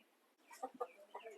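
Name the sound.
chickens clucking near a rural dhaba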